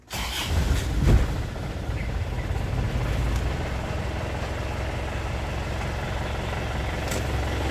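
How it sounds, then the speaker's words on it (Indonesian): A 2016 Isuzu Panther LS turbo diesel engine cranks and catches with a sharp start, then settles into a steady low rumbling idle that continues evenly to the end. "Kita nyalakan mesin."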